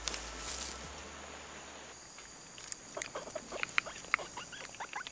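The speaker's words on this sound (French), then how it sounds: "Un rongeur affamé, appelé agouti, cherche justement de quoi se nourrir." An agouti forages on the forest floor among fallen figs, making light, scattered rustles and pattering taps that grow busier toward the end, with a faint tonal whine and quiet ambience early on.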